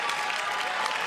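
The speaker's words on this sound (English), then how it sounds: "he lands on his feet and collects some applause" A crowd at an IWC wrestling event claps in dense, continuous applause, loud and close, with no talk over it.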